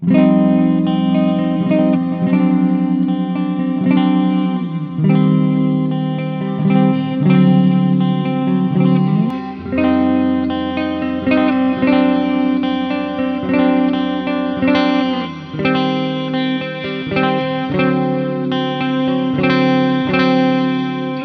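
Electric guitar chords through a Mooer amp modeler's shimmer reverb, ringing out with a lush, shimmering reverb tail that sustains and swells, played alone and steadily.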